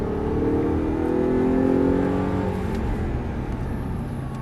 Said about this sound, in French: allez on peut accélérer progressivement, on est à fond.